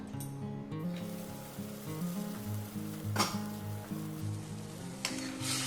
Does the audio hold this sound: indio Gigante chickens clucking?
no